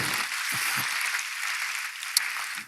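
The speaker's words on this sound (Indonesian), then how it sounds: "Berikan tepuk tangan kita untuk Tuhan" A church congregation claps during a worship service, a short burst of fairly faint, steady applause that fades out at the end, with a few low murmurs beneath.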